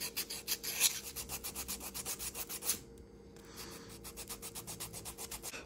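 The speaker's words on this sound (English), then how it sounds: "so you grab some 320 grit sandpaper and sand these" Sandpaper (320 grit) is rubbed briskly over the metal contacts of a Corvette C3 power window motor, making a steady run of rapid, close scratchy strokes with a brief pause midway before the rhythm resumes.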